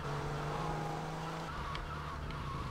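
Car engine in GTA Vice City Stories, a steady, loud motor drone held through the whole stretch, with faint tire noise and no speech.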